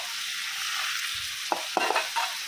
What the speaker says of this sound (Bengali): শুটকিগুলো দিয়ে একটু ভালোভাবে তেলের মধ্যে বাইজা নেব